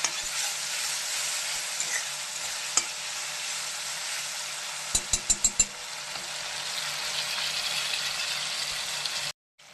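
Red and green chillies frying and being stirred in a pan, a steady close sizzle broken by a short run of sharp clicks from the spoon midway, ending abruptly.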